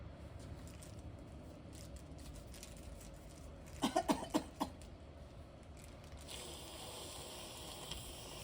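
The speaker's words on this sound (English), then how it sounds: "Now I'm gonna suction you. Okay, this might make you cough." A short burst of several wet, raspy coughs from a patient during tracheostomy suctioning comes in quick succession midway, over a steady low mechanical hum.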